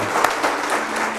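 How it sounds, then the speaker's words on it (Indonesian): A brief burst of dense audience applause, many hands clapping together in a hall, loud and steady throughout. "tepuk tangan"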